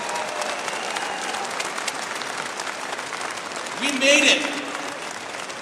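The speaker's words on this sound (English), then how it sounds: "Let's give all of the candidates a great round of applause for their campaign this last few months." A crowd of delegates applauds candidates at a political leadership vote, steady clapping filling the hall with a brief shout rising near the end and someone speaking over it.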